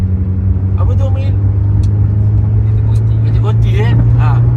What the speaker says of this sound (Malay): Tapi kereta ni kau ingat, jangan ingat tak laju kereta ni.